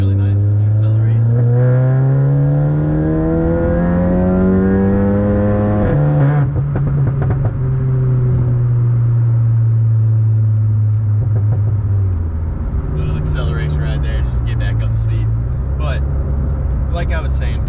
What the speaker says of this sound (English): You hear the spooling all the time, stuff like that. Tons of noise coming out of the turbo.